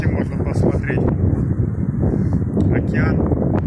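Steady gusting wind buffets the microphone on a San Francisco waterfront by the ocean, a constant low rumble and roar with faint voices mixed in underneath.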